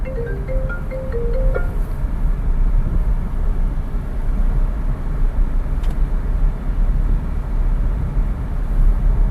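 A 2022 Maruti Dzire ZXI running on CNG drives along with a steady, loud low engine and road rumble from inside the cabin, and a short electronic chime near the start.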